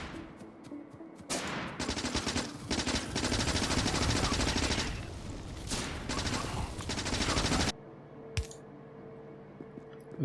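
Gun turrets in the video game Factorio fire in long rapid bursts, a dense rattling stream that stops briefly and starts again before cutting off into quiet, with faint clicks afterward.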